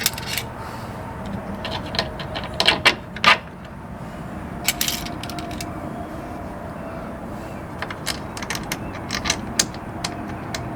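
A ratchet tightens bolts on a valve of a camper trailer, giving a run of irregular metallic clicks and clanks, close by, over a steady background hum.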